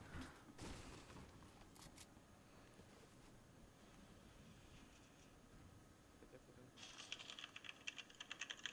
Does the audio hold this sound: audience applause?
no